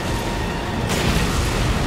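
A loud, booming explosion erupts in the co-op video game Resident Evil 5, its broad blast swelling suddenly about halfway through over an already dense, noisy battle backdrop.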